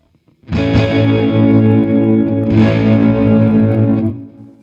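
A loud, sustained Waldorf Iridium synthesizer tone with a distorted, shimmering texture, swelling again midway as repeating delay-like echoes trail behind it before fading out.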